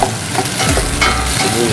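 Garlic sautéed in a frying pan for sweet and sour fish, a steady close sizzle with scraping stir strokes running through the whole stretch and no voices.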